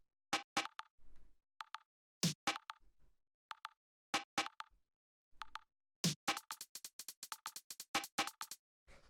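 A minimal house percussion loop, built from layered short plucky clicks and hits that play sparse at first, then thicken into a fast, busy rhythmic pattern, clean and dry with silence between hits.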